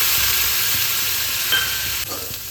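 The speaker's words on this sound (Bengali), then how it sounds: "সামান্য জল দিয়ে এটাকে ভালোভাবে কষিয়ে নেব" Fish masala with a medium tomato and a splash of water cooks down in oil for a Bengali tangra and bele fish dish, giving a steady, even sizzle with a faint scrape near the end.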